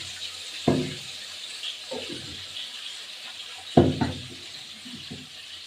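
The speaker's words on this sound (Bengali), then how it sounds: "এবার একটু জলটা দিয়ে দিলাম" Water splashes into a pan of chicken curry cooked with kasuri methi, in two short pours a few seconds apart over a steady background hiss.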